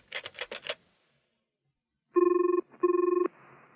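A landline telephone rings in two long electronic trills separated by a short pause, loud and close, after a few quiet button presses.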